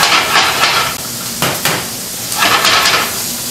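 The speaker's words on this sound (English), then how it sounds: "Put our vegetables in, let them start cooking." Vegetables hit a hot pan in a diner kitchen, giving a broad sizzle with bursts of hissing and clattering pan noise, close and loud.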